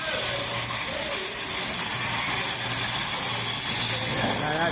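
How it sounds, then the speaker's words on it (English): CrossCountry passenger train passing through York station, a steady broadband rush of wheels and motion with a faint low hum, continuous and fairly loud without any voices. "Another cross country train in its oldish colours."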